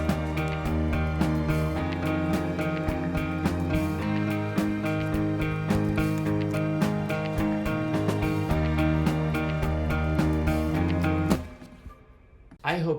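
An indie pop groove of layered percussion loops and chordal instruments plays steadily, then an orchestral transition and a crash cymbal swell in near the end, full and loud with no talk.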